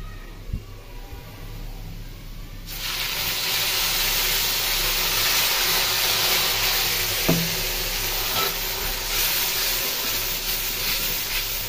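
Tomato paste added to fried onion paste in a pan bursts into a loud steady sizzling hiss after a quieter start, continuing close and even, with a faint clink partway through.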